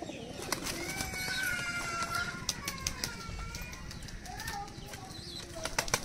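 Pigeons in a crowded loft coo and flutter, low cooing mixed with sharp bursts of flapping wings and scattered clicks, the birds close by and busy throughout.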